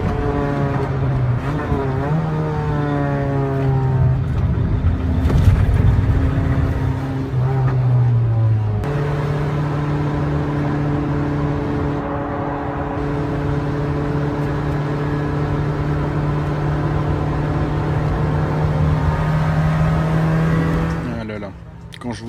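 A Peugeot 205 circulates on the Chambly circuit, its engine droning steadily and shifting pitch through gear changes and revs, with a voice talking over the continuous motor noise.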